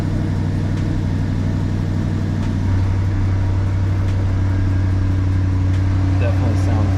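A C8 Corvette engine idles with its exhaust valves open, a loud deep burbling drone that steps up in pitch partway through, while someone talks over it.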